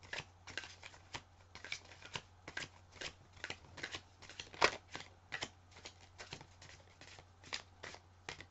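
Tarot deck being shuffled by hand for a card reading, a steady run of crisp riffling card flicks repeating for several seconds with no talking, fairly close and quiet.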